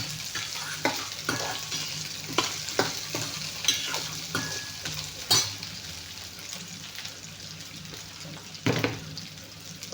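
Cumin seeds crackle and sizzle in hot oil with frequent sharp pops and stirring scrapes, close and moderately loud, with no voices.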